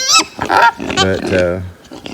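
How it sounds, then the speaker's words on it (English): Farm pigs grunting and oinking close by, a run of short squealing and nasal grunts that rise and fall over about two seconds, loud and near with no other sounds. "that's these pigs that's up here that I call the meat"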